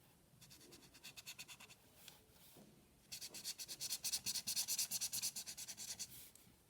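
Close, quiet scratching of a drawing tool colouring on paper, coming in quick rhythmic strokes with a short pause before a faster, denser burst.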